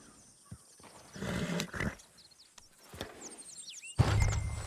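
Horses from the video game Red Dead Redemption 2 in a town setting, with a few short snorts and whinnies plus hoof clatter, moderately near amid quiet background sounds.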